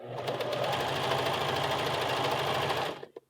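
A sewing machine stitching the button placket of a western blouse, a close, loud, rapid rhythmic whir of the needle that runs steadily for about three seconds, then stops abruptly.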